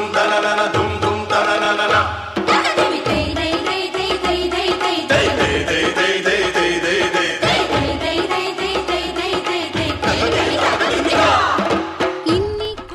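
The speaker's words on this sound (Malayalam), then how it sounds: "ഇവിടെ കൂക്കുവിളികളും കയ്യടിയും മത്സരവേദിയെ ആവേശലഹരിയിൽ കൊണ്ടുവന്നെത്തിക്കും." Large crowd of spectators at a Kerala bull race shouting and hooting in loud waves, a dense roar of many voices rising and falling close by, with no one speaking clearly.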